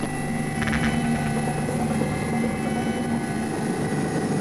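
A rescue helicopter heard from close by, its steady engine whine and rotor drone running continuously at a loud, even level.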